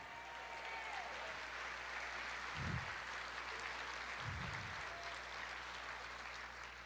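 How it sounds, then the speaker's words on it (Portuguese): A church congregation claps during a sermon, a faint, even roll of many hands under a steady low hum, with a couple of brief low thumps partway through. "Aplauda mais."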